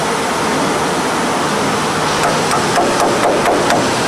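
Knocking on an original Ilkal granite slab, a series of sharp taps in the second half that are loud and close, layered over strong broadband noise.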